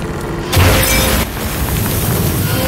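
A muffled boom erupts from a video game explosion in Amnesia: A Machine For Pigs, a broad rumbling burst that swells over a steady droning background and then fades back into the ambience.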